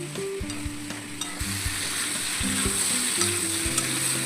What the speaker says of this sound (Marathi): अशा इतके इतके साईजचे करून आपल्याला हे पण फ्राय करून घ्यायचं